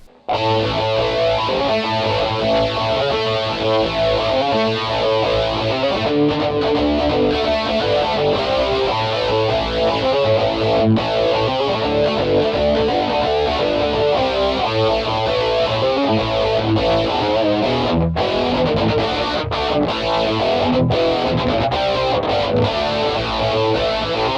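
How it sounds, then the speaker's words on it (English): Electric guitar run through a Rockman Sustainor with stereo chorus, a continuous compressed, sustained and shimmering tone of chords and notes played steadily and loudly for the whole stretch, with no talking. "And the Sustainor sounds like this."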